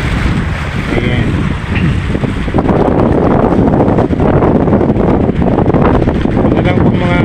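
Strong monsoon wind buffets the microphone at Bulan fish port in Sorsogon, a loud, constant roar with gusting swells throughout and a faint voice underneath.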